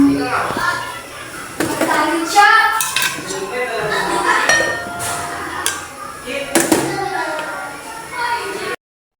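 A lid is set onto a cooking pot in a home kitchen after lemongrass and long chili go in, giving a few metallic clanks and clinks between talk, with children audible in the background.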